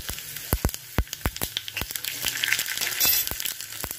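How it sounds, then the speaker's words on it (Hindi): Cumin seeds crackle and sizzle in hot oil as a tempering for Indian dal tadka, a dense frying hiss punctuated by frequent sharp pops, loud and close with no talking. "देन इसके बाद मैं इसमें ऐड करूंगी जीरा,"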